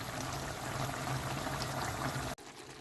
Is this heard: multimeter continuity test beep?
no